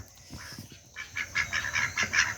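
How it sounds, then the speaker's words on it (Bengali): Several nasal quacks from native domestic ducks in quick, uneven bursts, close by and fairly soft, growing busier toward the end. "এটা কিন্তু ক্যাম্বেল হাঁস না এটা কিন্তু দেশি হাঁস"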